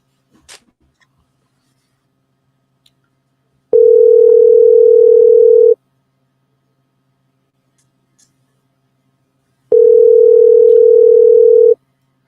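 A telephone dial tone sounds while a call is being placed, two steady two-second tones separated by a long silence, clear and loud with no talking.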